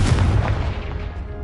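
The Confringo blast spell from a Harry Potter wizarding video game, a single loud booming explosion at the start that rolls off and decays over about a second, heard alone.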